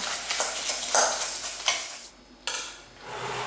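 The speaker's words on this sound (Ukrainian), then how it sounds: "Беремо три жовтки і 100 грам цукру. Збиваємо все гарно до посвітління маси." Three egg yolks are beaten with sugar in a bowl, with quick repeated whisk strokes scraping and clinking at an uneven rhythm, close by and with no voices.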